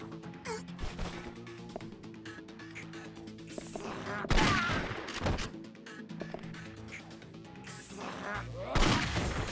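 Point-blank shotgun blasts in Yakuza 3 Remastered on PS4 land as heavy, crashing bursts amid busy fight noise and impacts. Two stand out as loudest, mixed with other game sounds and some voices.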